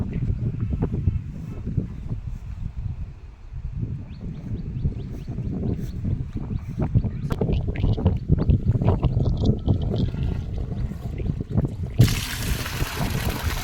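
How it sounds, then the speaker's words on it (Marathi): Steady trickling and splashing of water flowing into a chamber runs throughout, a busy liquid flow with a brief louder hiss of rushing water near the end. "पाणी त्या चेंबरला येत आहे"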